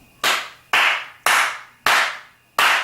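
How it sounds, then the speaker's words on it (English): Five loud, sharp hand claps close by, spaced about half a second apart, each with a crisp attack and a short decay, with no other sound in between. "If I could clap any louder, I would."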